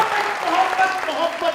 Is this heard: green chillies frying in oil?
no